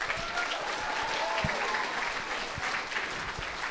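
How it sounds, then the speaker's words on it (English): Applause for the band FEET at a Chinese proficiency competition for Australian secondary school students, a full, steady roar of clapping from a large audience, with scattered louder individual claps standing out. "let's have another big round of applause for FEET"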